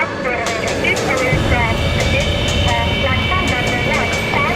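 An express train rushes past a railway platform with a loud, continuous rumble and rattling wheel noise, overlaid by what sounds like a station announcement and platform chatter.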